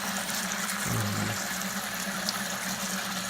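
Water pours into a homebrew kettle through a filter while about 4.5 gallons of strike water are drawn for an all-grain IPA, a steady running wash with a brief lower gurgle partway through.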